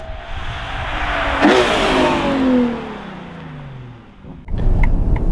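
A Ferrari Purosangue sweeps past in a flyby, its engine rising and then fading with a falling pitch as it passes, followed by a louder burst of nearby noise at the end.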